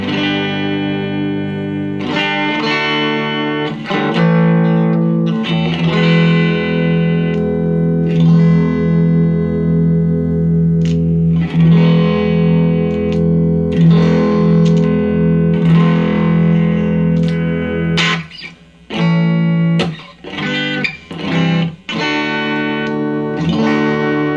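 Overdriven electric guitar with single-coil pickups through a VOX AC10 amp, gritty and bright with chords and single notes ringing, short gaps near the end, played alone.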